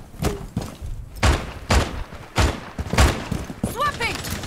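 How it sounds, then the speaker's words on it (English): Gunfire in the tactical shooter Rainbow Six Siege, a Fortress team-deathmatch bomb round: four heavy bursts of shots at roughly even intervals over background game noise, followed by rising electronic chirps. "shots going up."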